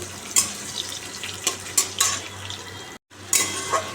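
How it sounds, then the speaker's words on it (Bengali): Long-cut potato strips fry in hot oil in a pan, giving a steady low sizzle under repeated clinks and scrapes of a spatula stirring, with one brief dropout in the sound. "আলুটা লাল করে ভেজে নিই"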